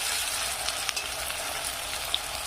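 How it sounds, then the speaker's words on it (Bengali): Chopped tomato fries in a pan with a steady hissing sizzle, with a few faint stirring clicks for a pressure-cooker rooster curry. "টমেটো কুচিটা দেওয়ার পরে একটু নেড়ে চেড়ে নেবো এইভাবে আমি"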